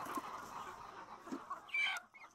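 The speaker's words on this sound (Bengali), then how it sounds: "আমার 300 মুরগি আছে," Hens cluck softly on a poultry farm of about 300 laying birds, with short irregular calls and one louder, higher cluck near the end. The flock sounds close but quiet.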